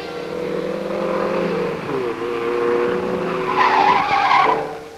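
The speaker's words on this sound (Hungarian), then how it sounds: "akkor fékezni kénytelen, és ezzel a maradék oldalvezető erőt is elhasználja és kisodródik" Car tires skidding and squealing as the car slides wide out of a curve after braking, a sustained screech with a wavering pitch over engine noise, loud and close.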